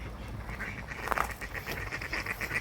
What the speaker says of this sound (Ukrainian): яке тут скупчення качок